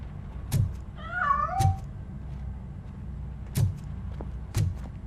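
A cat meows in the Robocop Rogue City video game, one clear drawn-out wavering cry, with sharp knocks or thumps landing before and after it over a low background rumble.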